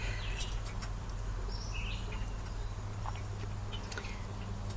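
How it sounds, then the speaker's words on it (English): Scattered bird chirps and brief calls ring out under a tree canopy against a low constant rumble, soft and somewhat distant, with occasional sharp clicks. "I don't know if you can hear the birds."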